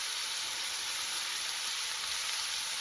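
Onion frying in a pan, cooking down until caramelized: a steady, dense, hissing sizzle that holds constant and close throughout, with no voices.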